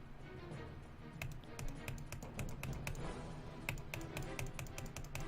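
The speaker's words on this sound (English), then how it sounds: "Sorry if you can hear my clicking." Rapid, irregular mouse or key clicks from someone playing the idle game Clicker Heroes tap away close to the microphone over a steady background hum.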